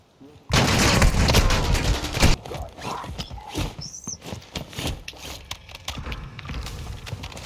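Rapid gunfire in a video game firefight, a loud dense burst of shots for a couple of seconds followed by scattered sharper cracks and clatter, with voices calling out.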